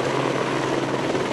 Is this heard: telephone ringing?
no